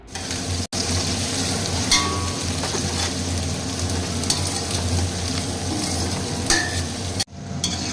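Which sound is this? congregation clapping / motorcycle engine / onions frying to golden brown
onions frying to golden brown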